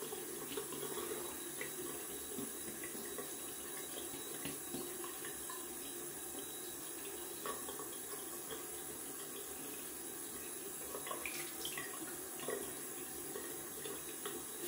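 Cold water running steadily from a bathroom tap into a sink for a rinse after a wet shave, a continuous close splashing stream with no talk over it.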